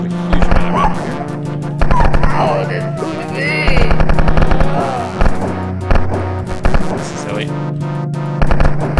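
Rapid machine-gun bursts and single shots from the 1994 game Wolfenstein 3D, loud and close, firing in repeated volleys with short pauses, under someone talking.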